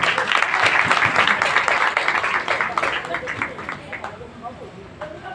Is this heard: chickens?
no